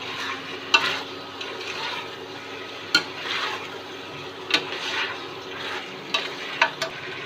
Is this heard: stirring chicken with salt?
yes